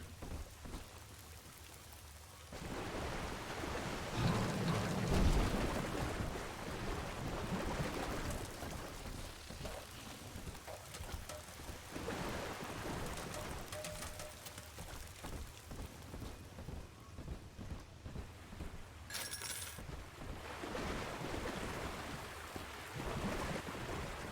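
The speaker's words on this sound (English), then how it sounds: "I guess it is fashionable to have a waterfall inside your underwater city." Rushing water from an indoor waterfall inside an underwater city in Bioshock 2 pours continuously, a broad hiss like heavy rain that surges and fades over the whole stretch.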